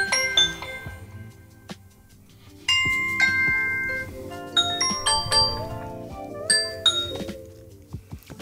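A Ring doorbell's chime sounds play one after another on an Amazon Echo Show 5, giving a sequence of bright, ringing tones and melodic dings that clearly sustain, with short gaps between the tunes.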